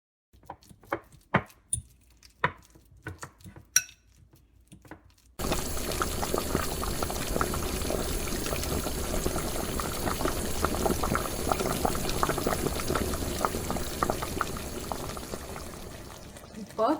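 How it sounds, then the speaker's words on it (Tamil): A steady, dense bubbling and sizzling of thayir kuzhambu, a yogurt curry, boiling in a pot, starting after a few soft clinks and continuing loud and close. "இப்போ குழம்பு நல்லா கொதிச்சிச்சு."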